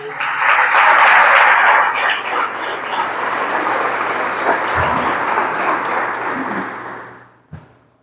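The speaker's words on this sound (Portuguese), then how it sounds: "Tem uma salva de palmas para o Senhor." A church congregation at a Christmas service bursts into loud, dense applause that holds for several seconds, then gradually thins and fades out, ending with a single soft thump.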